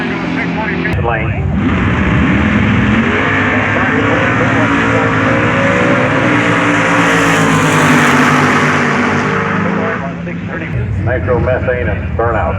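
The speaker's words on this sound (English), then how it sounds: "Nitromethane and burnout." A loud, sustained roar of a nitromethane-fuelled drag racing car doing a burnout at a drag strip, steady and dense for most of the run before easing slightly near the end.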